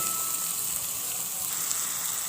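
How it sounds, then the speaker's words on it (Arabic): Chopped onion sizzling in a pan of hot oil, a steady dense crackle that runs unbroken and fairly loud throughout, with no voices. "هبدأ بقى اجيب البصلاية وانزل بيها في قلب الزيت"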